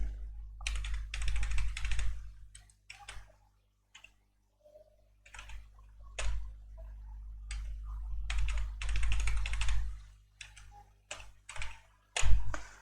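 Password being typed on a computer keyboard, bursts of quick light key clicks in irregular clusters with short pauses between, close and fairly quiet, no talking.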